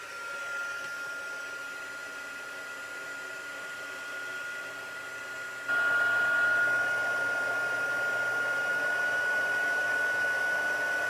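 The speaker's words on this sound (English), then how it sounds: "now we're gonna heat emboss it with my heating tool" A heat embossing heat tool blows hot air in a steady, moderately loud whoosh. Partway through it grows louder and holds at that level, and a thin constant whine rides on top of the rushing air.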